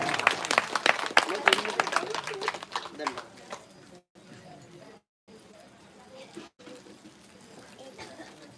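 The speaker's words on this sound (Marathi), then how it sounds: "अशा पद्धतीने टाळ्या वाजवा" An audience at a Mahanubhav Navratri religious discourse in Raher, Nanded claps in a burst of rapid, dense applause for about three seconds, then it fades into quieter hall sound with talking.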